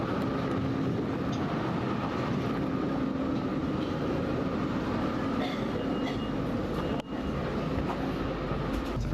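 A modern train rumbles past steadily, with dense, continuous rolling noise and wheel hum that never lets up. There is a brief dip near the end, and no one talks.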